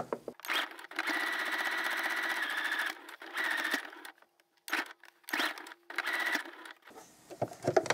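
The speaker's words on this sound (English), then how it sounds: "I'm going to backstitch these pocket sections at the beginning and at the end" A sewing machine stitches apron pocket sections with backstitching, running in steady bursts separated by short pauses, close and fairly loud.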